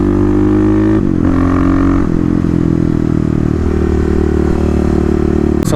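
A Kawasaki KLX dirt bike engine with an aftermarket exhaust holds a loud, steady drone close by, its pitch dropping slightly and then settling, with a faint clatter near the end.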